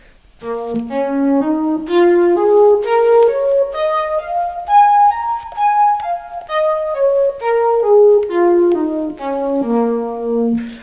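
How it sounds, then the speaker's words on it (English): A reedy electronic wind instrument plays a tongued two-octave minor pentatonic scale, climbing and descending again, each note clearly articulated with jazz articulation. "play a 2 octave minor pentatonic scale, then a 2 octave blues scale, and we'll do it with the jazz articulation"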